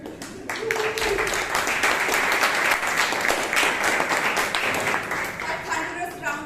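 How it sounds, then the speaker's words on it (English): Dense, steady clapping from a Toastmasters meeting audience runs for several seconds, close and lively, with a voice faintly audible at the start and end. "A thunderous round of applause once again to our tag team"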